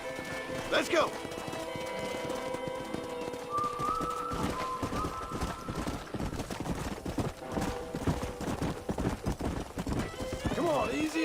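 In Red Dead Redemption, a horse's hooves clop steadily while it gives a clear whinny early on and another near the end, with voices and ambient game sound mixed in.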